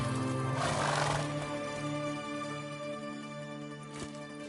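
Roach, the horse in The Witcher 3 game, lets out a loud, drawn-out whinny early on, followed by quieter hoof clops and a sharp hoof strike near the end, set against a soft, steady ambient hum.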